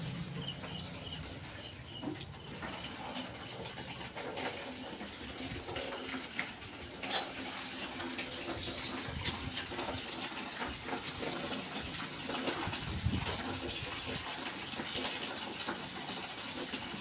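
Water runs steadily from a tap in a home kitchen or bathroom, a continuous close gushing and splashing that holds for the whole stretch with no one speaking.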